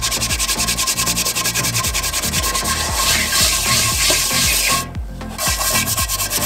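Rapid rhythmic brushing and scrubbing as a brush works baking powder over rusted cast iron cookware, a steady close abrasive rasp with repeated strokes and a brief pause near the end, no talking.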